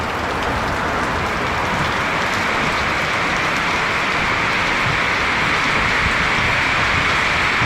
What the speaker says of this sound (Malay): Hujan lebat malam ni.